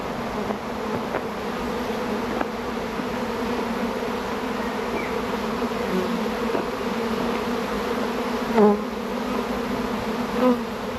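A honey bee swarm circles around beehives, filling the air with a dense, steady buzzing of many bees that holds at an even level throughout, with a few louder passes close by.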